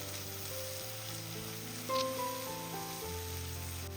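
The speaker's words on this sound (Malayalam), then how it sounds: "ഈ പൊടിയുടെ പച്ചമണം മാറുന്നവരെ ഒന്ന് ഇളക്കി കൊടുക്കുക." Chili powder stirred in a hot pan while cooking okra, giving a steady close sizzle with soft scraping and a brief louder clatter near the middle.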